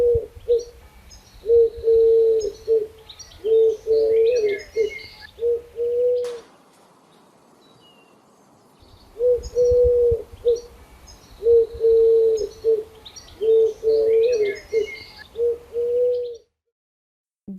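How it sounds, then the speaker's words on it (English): A dove coos in repeated soft, low phrases, close and clear, in two bouts separated by a brief pause, with faint chirps from other birds in the background. "Dove."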